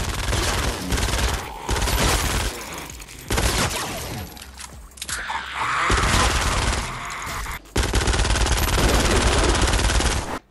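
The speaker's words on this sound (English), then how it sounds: "So that right there is the machine pistol in Save the World." Rapid machine pistol gunfire from the Fortnite Save the World game, loud sustained bursts broken by short pauses, with shattering impacts mixed in and no talking.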